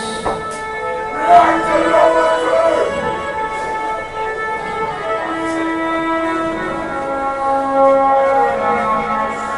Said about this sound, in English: You know, the violin is such a delicate instrument.